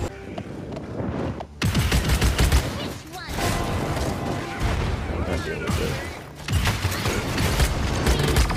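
Gunfire in the video game Paladins, dense rapid shots and mechanical clanking that run almost nonstop, loud and busy, with brief gaps and game effects layered in.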